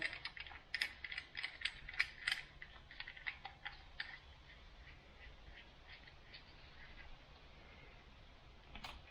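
A small nozzle orifice screwed by hand onto an MJJC Foam Cannon Pro, giving a quick series of close, light plastic clicks and ticks at first, then fading to a faint steady hiss.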